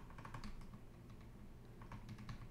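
Clattering keystrokes on a computer keyboard, typed in quick irregular bursts at close range. The taps run steadily through the whole stretch with no voices over them.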